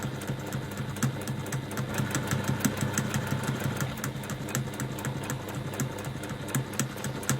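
A sewing machine runs steadily, stitching fabric for a tulip at a quarter-inch seam, with a continuous mechanical hum and rapid rhythmic ticking throughout and no voices.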